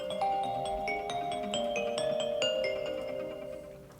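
An iOS 26 ringtone, a soft, bright chiming melody of bell-like tones played back quietly, notes overlapping and gently fading.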